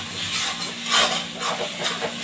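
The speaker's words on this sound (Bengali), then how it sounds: "মশলাটাকে ভালো করে ফ্রাই করে নিই।" Turmeric, cumin and Kashmiri chilli powder with a little salt sizzle in a hot pan for a mushroom curry, a close, steady hissing fry with gentle swells and faint scraping.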